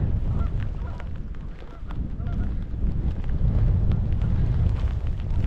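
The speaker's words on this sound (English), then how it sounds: "Canada goose there." Canada geese honking near a wild lakeside camp in the Lake District, repeated harsh honks over blustery wind buffeting the microphone.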